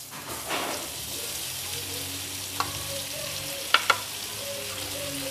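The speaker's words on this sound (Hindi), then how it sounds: "हम दो हिस्सों में ही फ्राई करेंगे इसको" Masala-stuffed bhindi (okra) fries in a partly covered pan with a steady, close sizzle throughout, broken by a few sharp pops and clicks; a voice speaks faintly beneath it.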